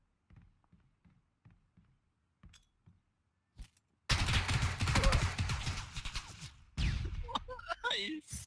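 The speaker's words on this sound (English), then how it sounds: "He is shooting me up big time." Gunfire in the video game PUBG is heard first as a series of soft, distant single shots. It then turns into loud, close bursts of rapid firing that overlap with a person talking and laughing.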